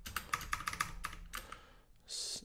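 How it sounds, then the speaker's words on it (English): Computer keyboard keys clack in quick irregular bursts, close and fairly quiet, then a brief louder hiss-like rattle near the end; no one speaks. "This keyboard is the best."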